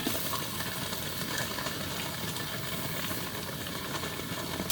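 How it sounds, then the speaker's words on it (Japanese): Pot of water boiling on a camping stove fitted with a windscreen at a winter walk-in campsite, giving a continuous, fairly faint bubbling hiss with no talk. "ちゃんと沸騰してる音が聞こえる。"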